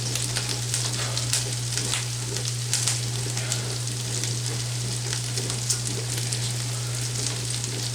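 Kale frying in a skillet for pesto gnocchi with beef gives a steady, moderately loud sizzle with faint crackles and stirring, under a constant low hum, with no talking.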